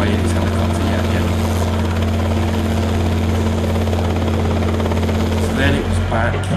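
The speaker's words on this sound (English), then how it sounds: "he looked at the site and then disappeared away in his helicopter yet again" Helicopter droning steadily with a strong low rotor hum over a building site, loud and constant throughout, its pitch shifting slightly near the end as it moves off.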